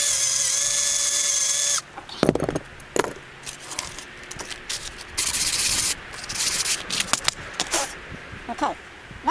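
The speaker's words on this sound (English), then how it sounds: "let's give another shot of electric drill here." An electric drill whines steadily, then cuts off, followed by short bursts of drilling and rubbing with clatter in between.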